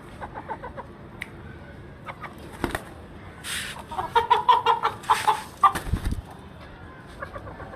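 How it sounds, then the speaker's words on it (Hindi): Desi chickens clucking and squawking close by as their coop is opened, rising into a burst of excited calls amid clattering and bumping noises. "सबसे पहले जो है हम अपने जो देसी मुर्गा मुर्गी है इनको खोलेंगे"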